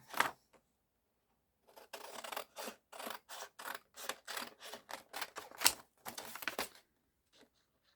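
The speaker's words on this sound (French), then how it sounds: "Donc maintenant, je découpe. Je prends les grands ciseaux." A run of crisp snips from large scissors cutting paper for a craft project, about a dozen quick, evenly spaced cuts close by in a quiet room.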